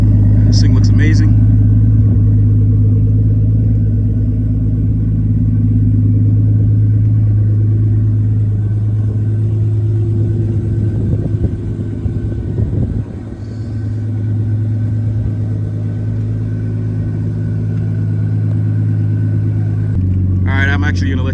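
1998 Nissan Skyline R34 25GTT idling outdoors with a deep steady rumble that swells into a revving blip midway, close and loud, with people talking over it.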